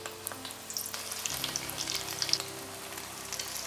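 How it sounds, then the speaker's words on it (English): Steady, crackling sizzle of corned beef taquitos deep frying in 350-degree vegetable oil, with small pops scattered throughout and no voices. "here I have vegetable oil at a 350 degree temperature for deep frying our tacos"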